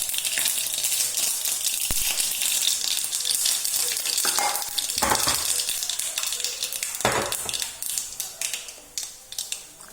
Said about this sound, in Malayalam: കുറച്ച് ഉലുവ ഇട്ട് പൊട്ടിക്കും.